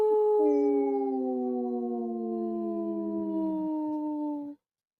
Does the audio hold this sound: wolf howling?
yes